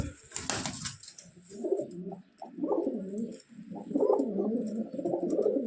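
A caged pair of Giribaz pigeons coo in repeated low, throaty rolls, close by, after a brief sharp rustle or flap at the start.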